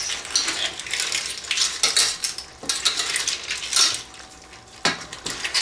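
Broad beans being stirred into a pan of clams, with scraping and clinking of a utensil against the pan in irregular bursts, close up and fairly loud, no talking.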